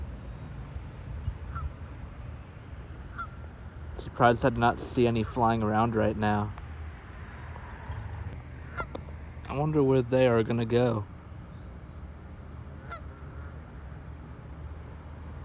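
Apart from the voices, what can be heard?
geese honking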